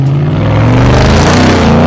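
White toy race car engine revving loudly and continuously in a sustained buzzing whine that rises slightly in pitch before cutting off abruptly, no talk.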